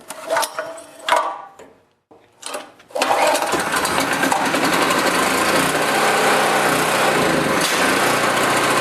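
A portable generator engine is pulled over by its newly repaired pull cord: a few rattling tugs and short bursts, then the engine catches and runs at a loud, steady high-pitched buzz.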